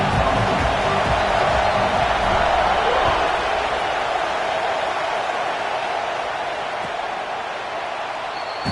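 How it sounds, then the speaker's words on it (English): Stadium crowd roaring in the NCAA 26 college football video game at the opening kickoff of a Gators game, a dense continuous wash of cheering that is loud at first and eases slightly, with a commentator talking over it. "Challenge this crowd to bring the energy, and I'd say they're doing that."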